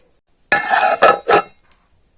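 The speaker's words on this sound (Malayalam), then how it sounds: "ഇനി നമുക്കിത് അടച്ചു വെച്ച് വേവിക്കാം" A metal lid goes onto a pot of Kerala-style cashew curry with three quick, close clanks and rattles, followed by quiet.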